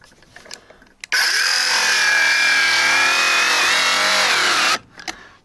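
A power tool grinds steadily into the body metal of a Hyundai Santa Fe, a loud continuous whine with a harsh high edge, starting and stopping abruptly.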